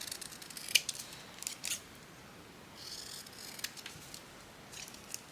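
Scissors trimming paper for a fairy paperclip craft, a series of short crisp snips and slicing strokes close up, fairly quiet, with no talking over them.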